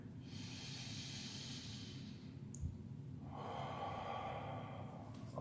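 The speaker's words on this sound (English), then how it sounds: "So nice 1 to 2 breaths here, so big breath in." Deep breathing during a full-body stretching session, two slow, close breaths: a long airy inhale, a brief pause, then a long hissing exhale, all quiet and with no talk.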